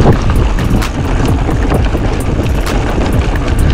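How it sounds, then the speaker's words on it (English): Strong wind roars steadily across an outdoor microphone on a cold ride, a loud continuous rush with gusty buffeting throughout and no speech. "that wind is brutal"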